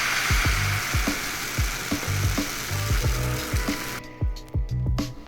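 Matcha crepe batter sizzles steadily in a hot pan, with a series of soft, regular clunks from the pan or utensil punctuating the frying; the sizzle drops away near the end, leaving only the knocks.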